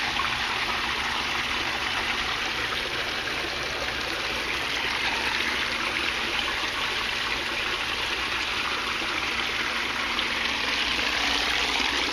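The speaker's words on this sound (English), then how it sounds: "This grow bed is draining." Water streams and trickles steadily as it overflows and drains over an aquaponics grow bed, a close, continuous broadband rush lasting the whole time with no talk.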